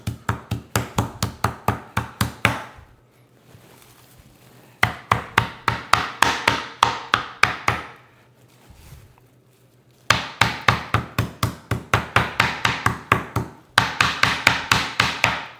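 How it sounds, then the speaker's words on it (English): A meat mallet taps chicken breasts flat through plastic wrap in fast bursts of sharp, close, dull thuds, with short quiet gaps between the runs. "I also have a meat mallet. So I'm just going to tap it just a little bit,"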